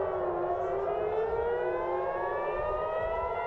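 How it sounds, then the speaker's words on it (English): An air raid siren wails across Israel, a loud, sustained rising tone that holds steadily without a break. "In Israel, sirens blared throughout the day, a warning to residents to run for shelter."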